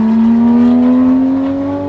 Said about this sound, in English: Oh, it's a Porsche.